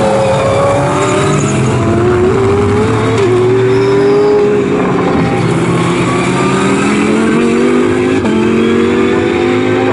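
GT Cup race cars thunder around the Snetterton circuit, engines roaring loud and continuous with shifting pitch as they accelerate and change gear, several cars overlapping close by throughout.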